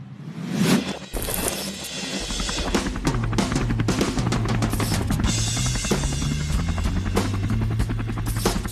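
A helicopter's steady, loud rotor chop and whine plays on its own for several seconds with no voices over it.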